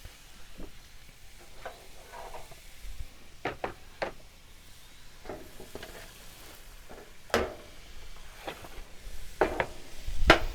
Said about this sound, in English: Spoon, just give it a stir.